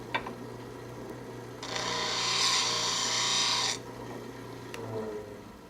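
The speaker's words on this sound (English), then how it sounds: "When you're grinding any double bevel tool, as with this or with the parting tool, it's good to make sure that you take metal evenly on both sides" A double bevel skew lathe tool is ground on a sharpening wheel, giving a close, steady rasping grind of about two seconds between quieter stretches with faint ticks.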